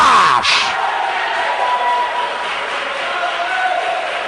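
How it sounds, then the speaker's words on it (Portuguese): A church congregation bursts into loud, sustained applause and cheering for Jesus during a Portuguese-language evangelical service, with a brief sharp shout near the start and a dense roar of clapping and voices throughout. "Então dá uma salva de palmas para Jesus!"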